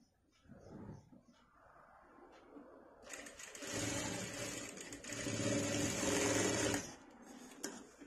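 A sewing machine stitches a hook strip onto cloth, starting after a quiet pause with a fast, loud, steady mechanical whirr that runs for several seconds before stopping.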